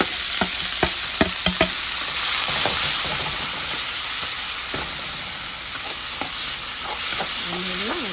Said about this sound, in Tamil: வெட்டி வச்சு கேரட்டு, பீன்ஸு இதெல்லாம் போட்டு நல்லா எண்ணெயிலேயே வறுக்கணும்